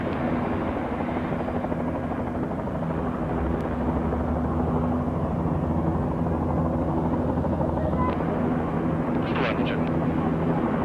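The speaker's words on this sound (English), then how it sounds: "a couple of helicopters landing south side the runway well clear." Helicopters landing beside the runway at a 1987 air display in Leicester, a continuous loud rotor and turbine drone with steady low hum and a brief higher whine near the end.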